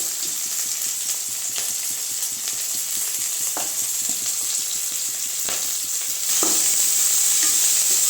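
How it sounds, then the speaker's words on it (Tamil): Green chillies and curry leaves sauté in a pan with a continuous, moderate sizzle, broken by occasional scrapes and stirring knocks, and the sizzle grows louder near the end; nobody speaks. "இது வந்து நல்லா வதங்கணும்னு ஒரு ரெண்டு நிமிஷம் வதங்கட்டும்"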